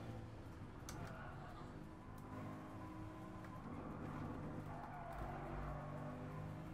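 Subaru road car engine racing in Gran Turismo Sport, a steady loud drone with tire squeal and revving throughout, with a voice talking over it.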